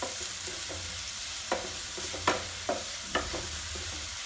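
Onions frying with salt in a pan, a soft steady sizzle broken by a few sharp stirring scrapes and clacks, quiet and close with no talking.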